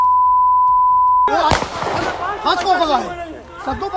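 Sharp gunshots ring out over a loud crowd in a street in Lucknow's Malhaur area, several sudden cracks amid shouting and commotion, following a steady tone.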